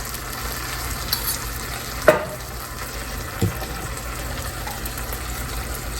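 Pork pot roast is stirred in its sizzling drippings in a pot, giving a steady frying hiss with a few distinct scrapes and knocks of the spoon close by.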